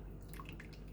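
Lentil soup drips and trickles through a strainer, a close, steady watery patter with brief splashy drops over a short moment.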